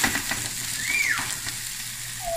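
Garlic shrimp with the shells on sizzle loudly in olive oil as the pan is tossed, a dense continuous hiss with a few brief scraping accents, close and steady throughout.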